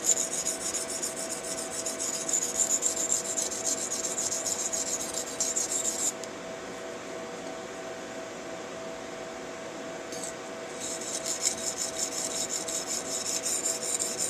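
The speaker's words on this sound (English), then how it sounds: "I'm already getting the burr to stand up on this lighter stone, or the finer side of the stone." A blade being sharpened on the finer side of a six-inch Norton Econo stone, making a steady close rasping scrape with repeated strokes that pause for several seconds midway and then resume, with no talking.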